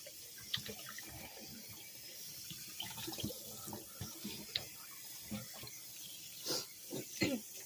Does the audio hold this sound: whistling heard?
no